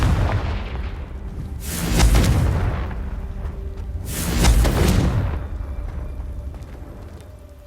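Two loud fiery Confringo spell blasts in Hogwarts Legacy, each a booming explosive burst with a rumbling crackling tail, spaced a couple of seconds apart.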